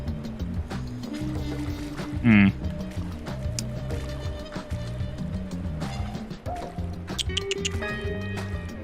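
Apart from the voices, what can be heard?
water sloshing and dripping in a flooded pool, from video game DrainSim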